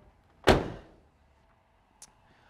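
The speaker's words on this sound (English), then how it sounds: "Close the door up." A single solid thunk as the door of a 1985 Chevrolet Camaro IROC-Z swings shut nearby, followed by a faint short click moments later in a quiet setting.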